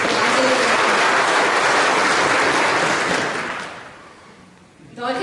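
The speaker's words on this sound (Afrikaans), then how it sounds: "Julle kan hulle hande klap." A church congregation applauds in a dense, steady wash of clapping that fades out toward the end, with a brief voice at the close.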